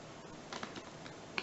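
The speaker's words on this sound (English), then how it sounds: "I'm going to have my spectator riffle shuffle these cards up" A deck of playing cards is riffle shuffled, giving a faint, soft patter of quick clicks that ends in a slightly sharper snap.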